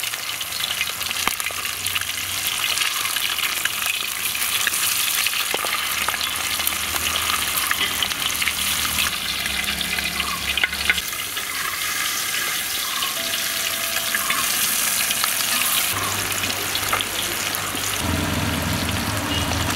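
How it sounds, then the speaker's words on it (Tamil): Avoli fish fries steadily in hot oil in a pan, a dense continuous sizzle and crackle running the whole time with occasional faint clinks, close and fairly loud with no talking. "ரொம்ப நேரம் ஃப்ரை பண்ண தேவையில்லை ஓரளவுக்கு ஃப்ரை ஆன போதும்"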